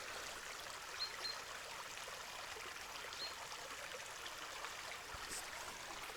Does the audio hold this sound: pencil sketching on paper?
no